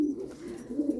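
Domestic pigeons cooing in a coop, soft low rolling coos repeated close by in a short burst, with no talking.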